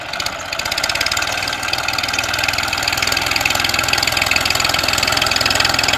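A Massey Ferguson 1035 DI tractor engine runs steadily in second gear, pulling a wheat sowing machine, with a loud, continuous diesel chug and a fast regular rhythm throughout.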